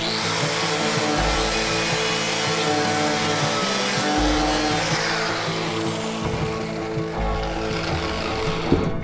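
A grinder sanding rust inside a 1972 Chevy Nova, a loud continuous abrasive whir with a steady motor drone that shifts pitch as the load changes, close and uninterrupted.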